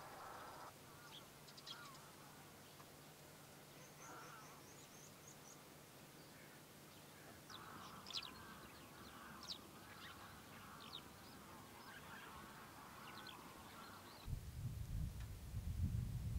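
Distant ducks quacking and geese honking in scattered calls across an open lagoon in winter, soft and far, over a steady low ambient hum.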